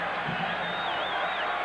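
A football stadium crowd at a 1987 Minnesota Vikings versus Los Angeles Rams game roars in a steady, dense wash of cheering and whoops, with a rising whistle-like tone cutting through the noise.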